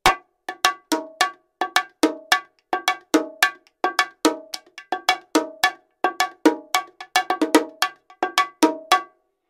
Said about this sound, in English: here's what they sound like on the bongos